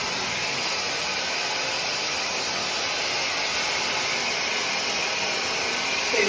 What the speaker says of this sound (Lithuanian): Įjungiu prietaisą, jisai duoda išpūtimą, yra angelės ir bandom.